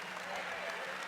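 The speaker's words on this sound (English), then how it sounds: "gets a nice round of applause" Scattered applause from a small crowd at a junior-college women's basketball game, greeting a freshman forward checking into the game. It is brief and steady at moderate loudness in a gym.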